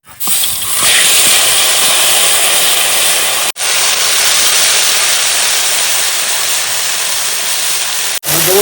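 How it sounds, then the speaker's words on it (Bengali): Loud, steady hissing sizzle of ginger, cumin, black pepper and green chilli paste hitting hot oil with nigella seeds, a continuous close roar broken by two brief cuts. "তেল গরম হয়েছে কালো জিরে ফোড়ন দিয়ে দিল বন্ধুরা এবার মশলা দিয়ে দেবো"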